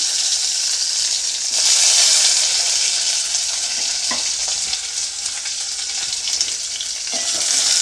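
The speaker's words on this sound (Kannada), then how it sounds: "ಒಂದು ಸ್ವಲ್ಪ ಕರಿಬೇವು ಒಂದು ಮೀಡಿಯಮ್ ಸೈಜು ಈರುಳ್ಳಿನ ಹಾಕ್ಕೊಳ್ತಾ ಇದ್ದೀನಿ" Onion and curry leaves fry in hot oil with popped mustard seeds for radish sambar, a loud, dense hiss that stays steady throughout, with a couple of brief utensil knocks.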